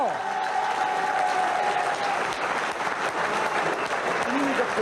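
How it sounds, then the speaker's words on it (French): A large audience claps loudly and steadily throughout, a dense sustained wall of applause with a brief voice line at the start. "Et on applaudit très très fort."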